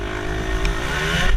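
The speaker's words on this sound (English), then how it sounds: "You probably heard the bike go up really loud on that." Close, loud motorbike engine while riding, a steady roaring drone that climbs slightly in pitch as it revs, no voices.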